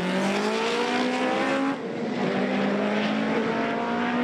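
Two front-wheel-drive Honda Civic drag cars accelerate down a drag strip, their loud engines rising steadily in pitch, with a brief dip at a gear shift before climbing again.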